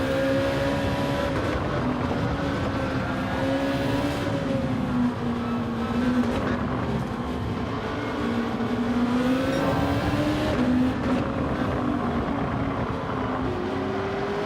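CLK race car engines in Gran Turismo 7 drone loud and steady at high revs, the pitch climbing and dipping through gear changes, several cars blending into one continuous roar with no voices.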